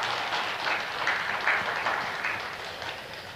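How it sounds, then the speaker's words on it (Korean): A church congregation in Mokpo gives congratulatory applause during a Sunday service. The clapping is steady and moderately loud throughout, with no one speaking over it. "이 시간 잠시 박수로 축하 박수 부탁드리겠습니다"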